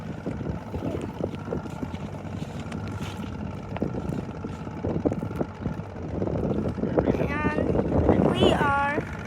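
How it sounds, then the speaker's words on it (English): A small boat's engine runs fast in the middle of a lake, with buffeting wind noise across the microphone. The engine roar rises toward the end, and voices talk over it. "We're gonna go fast on the engine."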